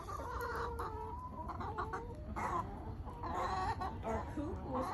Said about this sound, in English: These are the chickies.